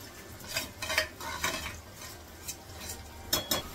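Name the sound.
stirring spiced yogurt batter into the okra masala in a pan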